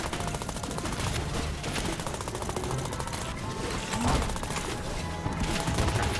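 Turrets firing in the video game Trifox, a dense, continuous burst of rapid automatic gunfire layered over game music and effects, steady and loud throughout.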